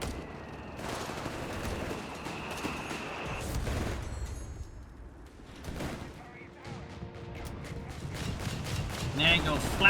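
Flak gun firing at grenadiers in Company of Heroes 3, bursts of rapid gunfire and booms in a busy battle mix, with a commentator talking over the action.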